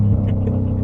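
An 870-whp four-wheel-drive Ford F-150 work truck launching in second gear, its engine a loud, close, steady low rumble that holds near the rev limiter throughout, with no talk.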